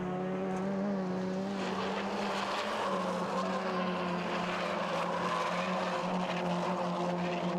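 A rallycross car at Lydden, driven by Ed Stallard, heading downhill with a steady high engine drone and strong harmonic whine, loud and sustained with slight pitch shifts as it runs.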